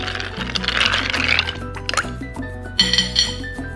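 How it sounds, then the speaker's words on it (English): Ice clinks and rattles against glass as a mojito gets a final stir, a bright jumble of close taps and knocks over a soft musical backing. "One more stir to chill everything."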